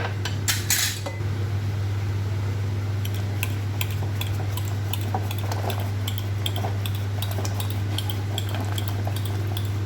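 Cooked masoor dal with turmeric stirred in a pot, a spoon clinking and scraping against the metal in quick taps over a constant low hum.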